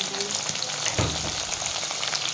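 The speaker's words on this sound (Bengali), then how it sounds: "ক্যাপসিকাম দিল আলুটা বেশ হালকা ব্রাউন হয়ে গেছে" Capsicum and potatoes fry in a pan, giving a steady, close sizzling hiss with light stirring scrapes throughout.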